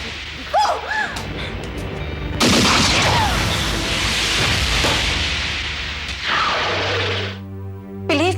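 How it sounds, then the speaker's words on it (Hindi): A pistol fires in a Hindi TV crime drama: a sudden loud, sharp blast bursts in after faint high chirps and trails off into a long, noisy echoing decay lasting several seconds. "आगे मत बढ़ना नारंग, वरना मैं गोली चला दूंगी।"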